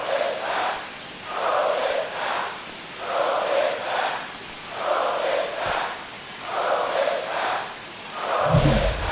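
Large baseball stadium crowd in MLB The Show 25 reacting to a home run at the Phillies' home park in Philly, a steady roar rising and falling in regular surges, with a brief thump near the end.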